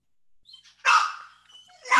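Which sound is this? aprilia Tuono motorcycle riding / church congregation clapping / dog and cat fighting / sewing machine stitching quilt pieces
dog and cat fighting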